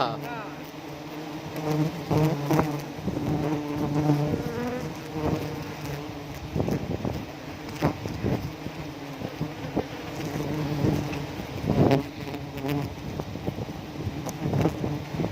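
A dense swarm of honeybees drones steadily during a honey harvest high in a tall tree, around 70 meters up, with wind rumbling over the microphone and a continuous buzz throughout.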